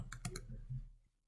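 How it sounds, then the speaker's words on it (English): A few quick, light keyboard clicks as matrix values are typed into a website, a short close burst of clicking that fades to quiet. "I'm going to type in matrix A"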